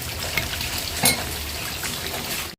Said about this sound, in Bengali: তো চলো সেদ্ধ হতে থাক।